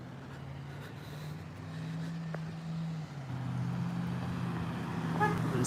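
A car horn sounds in steady traffic, a sustained honk drifting over the rumble of passing vehicles at a moderate distance.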